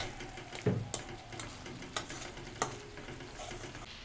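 Spice paste with cloves, salt, turmeric and ginger paste sautéing in oil, a soft steady sizzle with a few light spoon scrapes and knocks against the pan.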